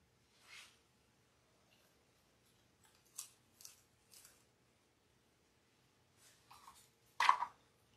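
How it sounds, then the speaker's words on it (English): Scissors trim decorative deco mesh for a wreath in a handful of short, crisp snips spread through an otherwise quiet stretch, with the final cut sharpest and loudest. "I'm going to trim this down a little bit"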